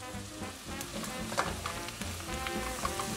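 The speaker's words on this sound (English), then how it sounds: "So saute the vegetable until soft." Chopped vegetables sauté in a pan for shrimp étouffée, with a soft, continuous sizzle and occasional stirring scrapes, fairly quiet and close.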